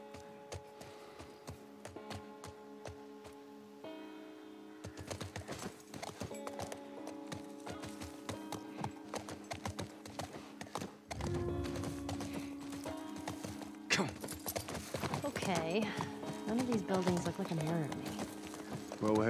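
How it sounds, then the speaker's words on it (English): Horse hooves clip-clop in The Last of Us Part I on PS5 while riding through the University of Colorado grounds, a steady rhythmic trot under in-game dialogue and ambient sound, with occasional whinnies. "I'm on a horse."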